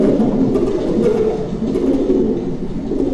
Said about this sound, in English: the American psychologist B.F. Skinner investigated the behavior of pigeons